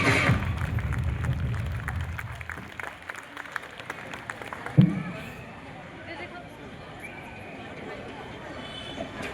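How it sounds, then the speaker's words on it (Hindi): Applause for children at a school Christmas celebration in a Christ Church school, briefly strong, then thinning out and dying away, with a single thump and voices in the background. "फिर से सभी हमारे बच्चों के लिए एक बार तालियां बजाएं"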